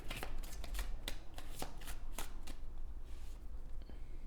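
Tarot cards drawn and handled during a reading, giving a steady run of crisp papery riffles and snaps with several sharper flicks, close and fairly loud, without speech.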